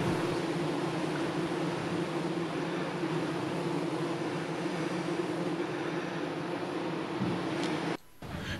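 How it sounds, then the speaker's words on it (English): Thousands of male ivy bees swarm over the top of a Cornish beach in September, producing a dense, steady hum that fills the whole stretch with no talk, cutting off abruptly near the end. "The top of this beach is filled with the humming of thousands of bees."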